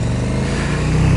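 A 2020 KTM Super Duke R engine drones during a test ride, a loud, close, low rumble that holds steady over a short moment.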